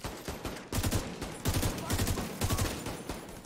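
Video game gunfire crackles in repeated rapid bursts, loud and close, with brief pauses between volleys.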